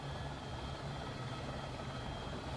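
An AS350 helicopter touching down in a flight simulator game: a steady, loud, unbroken rotor and turbine drone with a low hum running throughout, no voices.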